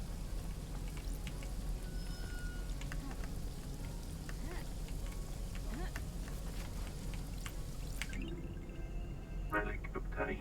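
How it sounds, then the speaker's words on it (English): Steady rain falls throughout a scene in the video game Paradise Killer, a dense, continuous patter that stays loud from start to finish, with the texture thinning briefly near the end. "It's raining again."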